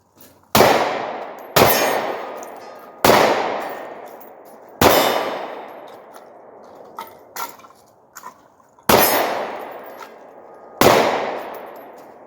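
A Glock G43 pistol fitted with a Holosun 507k red dot fires at a steel target about 50 feet away, giving around seven sharp shots at uneven intervals, each followed by a ringing metallic clang, with faint taps in the pauses.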